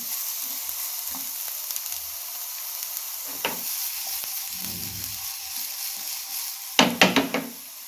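A medium-size onion sizzles and fries in a hot pan for rasawala vada, a steady crackling hiss running throughout, punctuated by a few louder stirring clatters near the end, with no talking.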